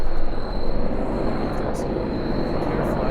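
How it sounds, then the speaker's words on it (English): A helicopter passes overhead above a large park, a loud, continuous broadband roar that fills the whole stretch without letting up. "Whoa, there's a helicopter."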